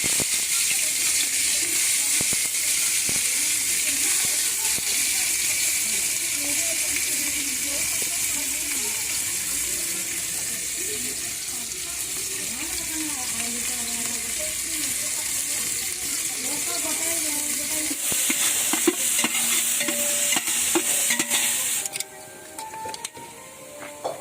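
Sliced onions go into refined oil for a biryani feast and fry in a steady, loud hiss and sizzle that runs on continuously, with faint voices in the background and a brief clatter near the end.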